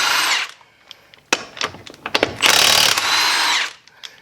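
Milwaukee M18 high-torque cordless impact wrench taking rusted lug nuts off a car wheel, several loud hammering bursts of varying length separated by clicks and short pauses, close up with no talk.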